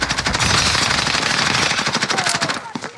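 Call of Duty Warzone gunfire: a loud, close machine gun fires rapid sustained bursts that fill the whole stretch, easing into scattered shots near the end, with faint voices underneath.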